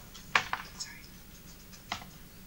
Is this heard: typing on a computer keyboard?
yes